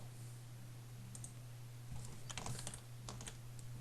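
Computer mouse clicks while working in Photoshop, a few quiet sharp clicks in short clusters over a faint steady hum, close but very soft.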